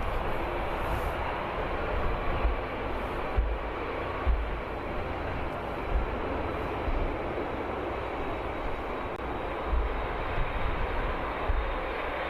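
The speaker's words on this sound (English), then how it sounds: "Three-year-old 737 touching down nicely at Birmingham." A three-year-old Boeing 737 touches down at Birmingham Airport, a steady broadband jet roar holding at even loudness throughout with no voices.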